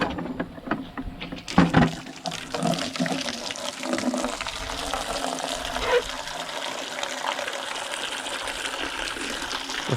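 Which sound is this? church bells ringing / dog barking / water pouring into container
water pouring into container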